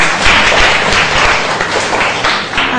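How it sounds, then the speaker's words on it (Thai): Students clap together loudly and steadily in a Thai grade-six maths classroom, a close, dense burst of applause lasting a few seconds with no pauses. "ปรบมือให้คณะชิดาถูกต้อง"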